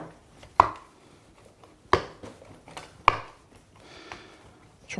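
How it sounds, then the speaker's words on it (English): Fresh rosemary chopped with a knife on a board for a Provence-style leg of lamb rub, three sharp, evenly spaced close chops with quieter handling in between, no voices. "And then what I'm going to do is chop up"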